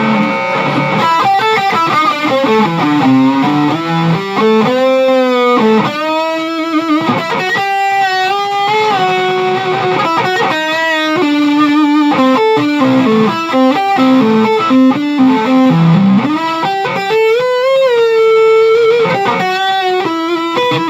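A Gretsch electric guitar played on the neck pickup, loud and continuous with distortion and effects, flowing melodic lines with bends and sustained notes and no pauses.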